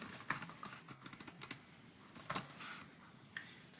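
Typing on a computer keyboard while entering accounting details in Sage: quiet, irregular key clicks in short bursts with brief pauses, heard close and alone.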